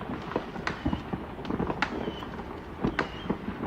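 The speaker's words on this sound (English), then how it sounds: "That was just fireworks in the background." Distant fireworks pop and crackle in scattered irregular bangs behind a steady background rumble, faint and far off.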